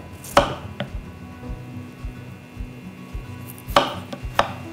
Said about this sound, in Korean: 우선 감자 깍둑 썰게 해서 물에다 담가서 녹말 뺄게요.